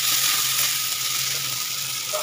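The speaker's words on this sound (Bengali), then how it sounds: "এবার আমি ভালো করে একটুখানি কষিয়ে নেবো" Spiced tilapia pieces with green peas sautéing in hot oil in a pan, giving a steady, close, bright sizzle with faint stirring, no voices.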